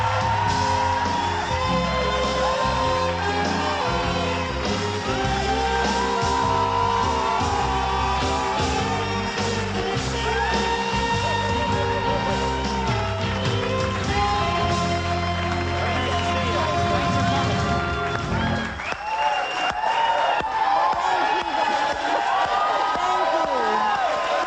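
A television studio audience greeting actress Betty White with loud sustained cheering, whooping and clapping over band music, continuous and dense throughout.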